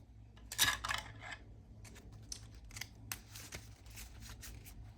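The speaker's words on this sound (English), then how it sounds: "Shuffle everything up." A deck of Marvel Champions cards is shuffled by hand, with a crisp riffling burst near the start followed by several lighter, quicker shuffling flutters, close and fairly quiet.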